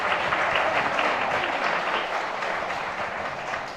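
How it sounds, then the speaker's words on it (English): A dense, steady round of audience applause fills a hall at a women's festival after a kirtan performance, sustained and even, with no voices on top. "let us give a big round of applause for all the Chetana girls here"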